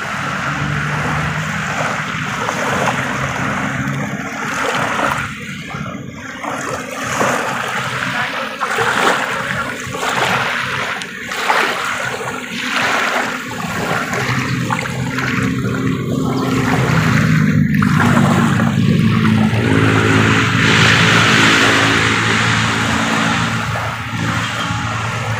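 Water washes and surges at the seashore of Dolomite Beach, a continuous loud rush that swells and recedes, with no voices.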